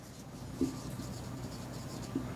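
Faint scratchy strokes of writing on a board during a classroom lesson on clock hands, soft and intermittent against steady room hiss.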